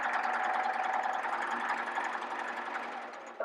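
A sewing machine stitching fabric, a steady fast mechanical whir heard close up and alone, fading slightly toward the end.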